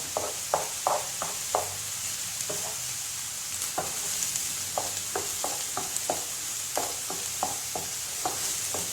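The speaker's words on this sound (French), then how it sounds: "Je vais la faire fondre un peu dans de l'huile d'olive." Onions frying in olive oil in a pan, a soft continuous sizzle broken by a steady run of sharp scraping taps as a utensil stirs, close and fairly quiet with no talking.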